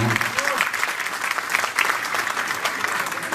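An audience at a community celebration applauds warmly, dense clapping that fills the room continuously, with a brief voice at the very start.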